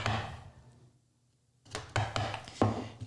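A chisel chopping into wood while hand-cutting dovetails, a few close, dull mallet strikes after a short quiet pause, spaced unevenly, with no speech.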